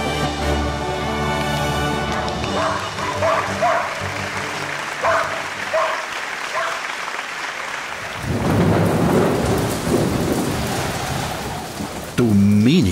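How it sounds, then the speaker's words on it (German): Heavy rain pours steadily with a broad, hissing wash and rumbling like thunder, loud and continuous throughout, with music-like tones layered over the first part. "schau den Regen an."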